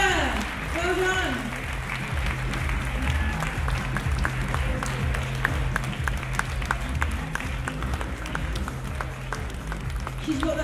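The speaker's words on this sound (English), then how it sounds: "Let's give her a round of applause" Audience applause for the women's overall winner at a 2018 bodybuilding classic, a dense, steady crowd clapping that fills the space, with an announcer's voice carrying over it at the start.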